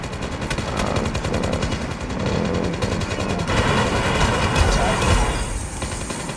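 Sentry gun firing in the mobile shooter Call of Duty Mobile: a sustained, rapid automatic burst of evenly spaced shots, loud and continuous, with other game noise underneath.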